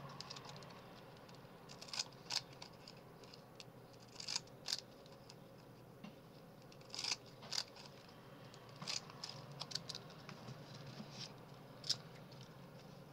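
Scissors cut a paper figure piece for an artist trading card, producing a steady series of small close snips and paper rustles over a soft background hiss.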